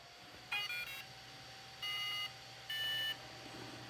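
Brushless ESC in a Traxxas Stampede RC truck sounding its arming beeps at power-on: three short electronic tone bursts, the first a quick stepped chirp, then two longer even tones, close and clear over a faint hum.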